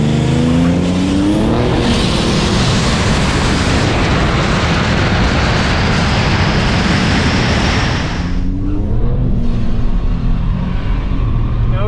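A Dodge Charger Redeye of more than 800 horsepower drag races a Tesla Model S at a drag strip, with a loud, sustained engine roar climbing through the gears and then cutting off sharply before revving again.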